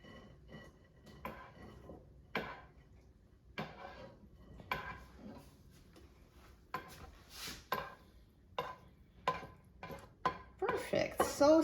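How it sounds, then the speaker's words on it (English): Buttered noodles with ground turkey transferred from a pan into a bowl, a run of near clinks and scrapes of a utensil against cookware, spaced out and then quickening into busier clattering at the end. "So now let's transfer this back in the bowl"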